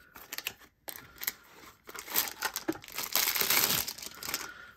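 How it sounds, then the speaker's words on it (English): A cardboard knife box is ripped and crushed apart, a fast run of close crinkling, tearing and crumpling noises that builds louder toward the end, with no voices. "I'm gonna have to destroy this box"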